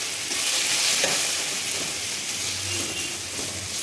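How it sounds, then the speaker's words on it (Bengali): Elephant foot yam chips fry in hot oil, a steady, dense sizzle with soft bubbling close by, and no voices. "এবার ভাজবো। তেল গরম হয়ে গেছে"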